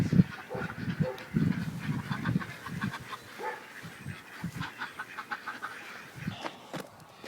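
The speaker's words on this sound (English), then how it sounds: "They raise ducks in it now, but you can adapt it for whatever you care to do or care to raise." Ducks honk and quack in a repeated, irregular chorus inside a powered, lit farm barn. The calls are mid-distance and fairly faint.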